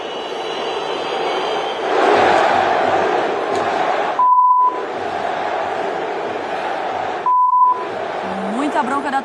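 Flamengo supporters in a stadium after a 1-0 win over Fortaleza make a loud, sustained crowd roar broken by two short electronic beeps, with voices mixed in.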